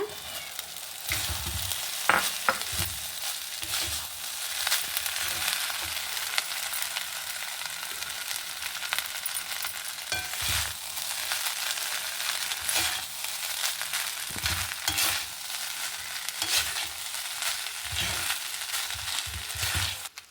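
Cooked rice stirred into sizzling masala in a pan for chitranna, giving a steady close frying hiss with scraping stir strokes throughout.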